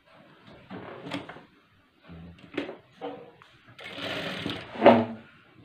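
Sewing machine stitching a folded blouse seam, heard in several short, quiet bursts of stitching with pauses between, the last burst louder and more sustained.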